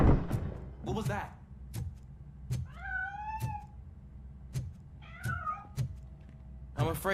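A cat in the RoboCop: Rogue City video game meows twice, clear rising cries amid sharp thuds and clanks, with a gaming voice speaking around them.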